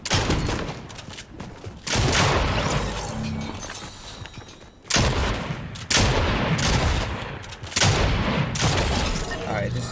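Loud bursts of rapid gunfire from a gun in Fortnite Chapter 3, coming in several long volleys separated by short breaks, with game sounds filling the gaps.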